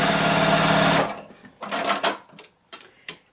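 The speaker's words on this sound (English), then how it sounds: "So I'm going to sew on the drawn line." A sewing machine stitches a flying geese quilt block with a fast, even whirring hum for about a second, then stops, leaving a few scattered clicks and handling noises.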